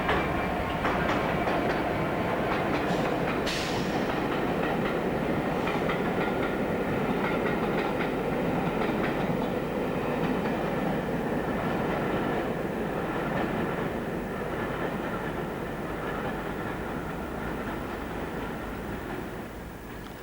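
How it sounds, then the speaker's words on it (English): A Class 67 diesel locomotive hauls a rake of empty mail vans along the line, a steady rumbling engine joined by rhythmic wheel clatter over the rail joints, gradually easing away. "The first 67 working in the area was the 1220 Bristol to Plymouth empty mail vans."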